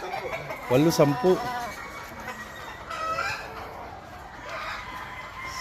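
Gamefarm chickens and roosters in breeding pens, with close, rhythmic bursts of clucking and crowing calls and fainter fowl further off, while people talk over the flock.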